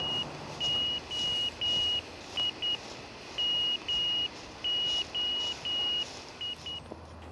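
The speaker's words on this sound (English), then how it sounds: "Each transmitter sends MO in Morse code" An ARDF fox-hunting radio transmitter keys the letters MO in Morse code as a steady, high-pitched beep broken into regular dashes and shorter dots, clear and moderately loud over a faint hiss.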